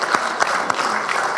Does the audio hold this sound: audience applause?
yes